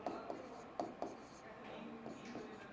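Marker or chalk strokes on a classroom board during a civil engineering lecture, giving short scratchy taps and rubs at an uneven pace. They are faint and close, with a quiet room tone behind them.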